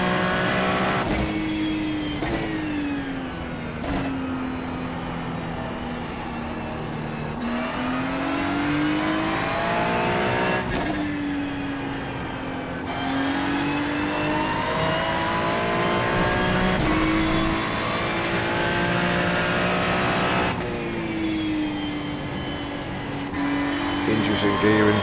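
A Ford Mustang GT3 race car in iRacing revs hard through repeated upshifts and downshifts, its engine note climbing and dropping in a rhythmic pattern with a loud, close drone, while someone talks over it.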